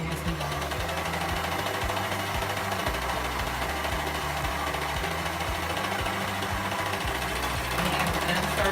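A sewing machine stitching a tube dress together, running steadily and loudly throughout with a continuous mechanical whir and rapid needle clatter.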